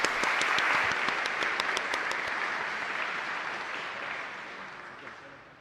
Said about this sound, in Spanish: Fuerte aplauso para nuestra Madre.